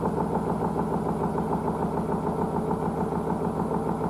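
A Blomberg WNF9448 washing machine spins at 400 RPM with a steady, close, rumbling drone and a soft rhythmic churn that holds constant throughout.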